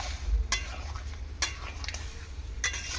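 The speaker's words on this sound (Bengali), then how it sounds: "সেদ্ধ করা ডালটা দিয়ে দিলাম। তো একটুখানি এরকম নাড়াচাড়া করে দেবো" Boiled masoor lentil dal with ash gourd is stirred in a pan, giving about three distinct scraping strokes over a soft simmering sizzle, close, with no talking.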